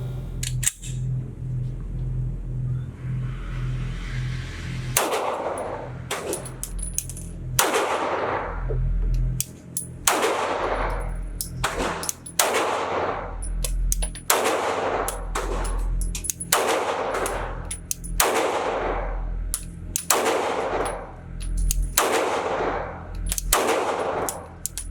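A Sig Sauer SP2022 pistol fires at a shooting range, a steady series of about fourteen sharp, loud reports spaced a second or two apart, each with a short ringing tail, no talking.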